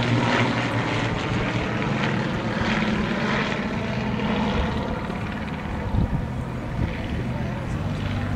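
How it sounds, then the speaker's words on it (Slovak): Four Flying Bulls aerobatic propeller planes from the Czech Republic rolling together in formation at an air show in Piešťany, a loud continuous engine drone that rises and falls, with a commentator talking over it. "Zase veľmi pekný skupinový výkrut 4 lietadiel skupiny Flying Bulls z Českej republiky."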